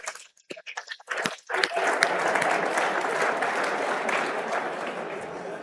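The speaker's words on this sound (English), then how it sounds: "Round of applause for yourselves." A convention keynote audience breaks into sustained applause after a few scattered opening claps, building to a dense, steady roar of clapping that fills the hall for several seconds.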